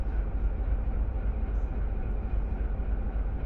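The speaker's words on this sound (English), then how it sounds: "I'm activating the dynamic brake and the train keeps colliding with each other. All the cars keep hitting each other," Freight train cars in the Run8 Train Simulator video game bumping into each other under dynamic brake, a low rumbling roll with muffled knocks running steadily under the brief stretch.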